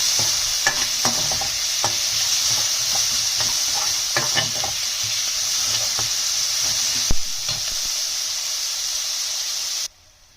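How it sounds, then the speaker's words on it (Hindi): Onion fries lightly in a kadai with a steady hiss of hot oil and occasional stirring clicks and scrapes, up close and fairly loud until it cuts off abruptly near the end. "अब मैंने ये कढ़ाई में प्याज डाल दिया है लाइट फ्राई करने के लिए"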